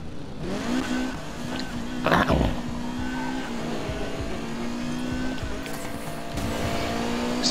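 A race car in a racing video game revs hard, its engine whine rising and falling with sharp tire squeals and a brief skid partway through, loud and continuous throughout.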